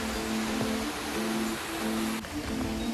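A small waterfall spills down from Ho Pui Reservoir, making a steady, broadband rush of falling water that holds constant throughout, with a faint tonal hum underneath and no talking.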